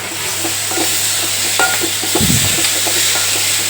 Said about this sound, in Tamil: எண்ணெய் ஊற்றி வெங்காயத்தை வேக வச்சுட்டு தக்காளி பார்த்திங்கன்னா கொட்டிடுவேன்